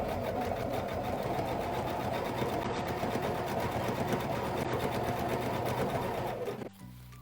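A Baby Lock sewing machine stitches through two thick layers of fabric, a loud, even motor whir running steadily and alone until it slows and stops near the end.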